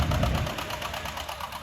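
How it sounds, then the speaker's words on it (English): Big John Deere two-cylinder 5.1 liter tractor engine running at a county fair tractor pull, a slow, uneven thumping beat close by, loudest at first and then settling a little, with no speech. "Got a big two-cylinder engine here."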